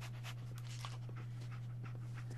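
Dogmeat, the dog in Fallout 4, pants in quick, rhythmic breaths close by, repeating steadily over a constant low electrical hum, with no talk.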